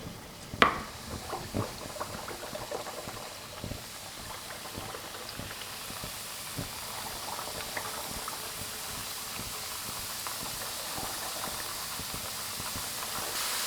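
Dough pieces deep-frying slowly in oil over low heat for twisted fried pastries, giving a soft, continuous bubbling hiss that swells slightly, with one sharp clink near the start.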